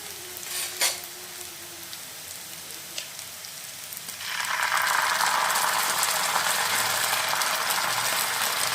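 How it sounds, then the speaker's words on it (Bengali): Ginger-garlic paste hits a pan of fried onions, a few clinks and stirs first, then a loud sustained sizzle that keeps going steadily to the end, no talking. "আর এখন দিয়ে নেব 2 চামচ আদা রসুন বাটা।"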